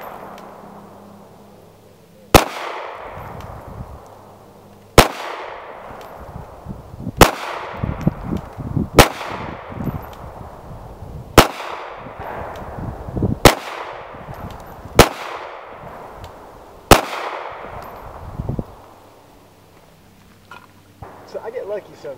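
A Glock pistol fires 9mm rounds as eight sharp, loud single shots, spaced a few seconds apart, each followed by a quick decaying echo.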